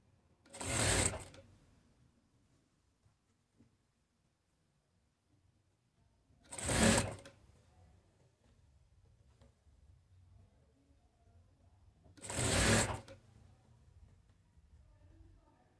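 Sewing machine stitching a men's shirt: three short separate bursts of running stitches spaced several seconds apart, close, with quiet room tone between them.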